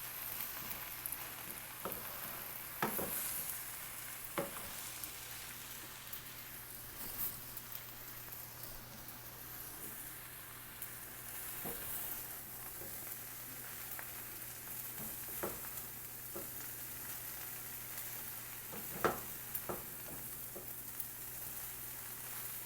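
Chicken noodles with vegetables fry in a pan with a little oil, giving a soft steady sizzle broken by scattered scraping clicks of stirring, close and fairly quiet.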